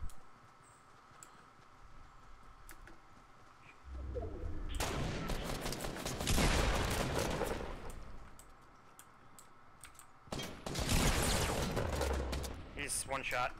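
Fortnite gunfire comes in two dense, noisy bursts of shots over a quiet game background, with speech present in the clip.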